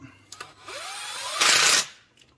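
A Milwaukee power tool runs in a steady whirring burst while tightening engine bolts on a Magnum engine during a cam and head swap, rising to a louder, harsher impacting stretch near the end before stopping.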